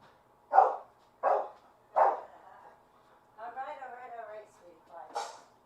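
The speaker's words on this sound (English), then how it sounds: "She's barking." A dog gives three short, evenly spaced barks close by, followed by a whiny whimpering vocalization and one more bark, in a quiet indoor space with a person speaking to it nearby.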